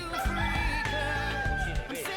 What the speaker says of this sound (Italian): Canta, canta un gallo, canta.